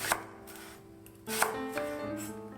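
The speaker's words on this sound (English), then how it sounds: "Slice half a leek" Half a leek is sliced with a knife on a cutting board, a few crisp chopping strokes close by over a steady hum of background noise.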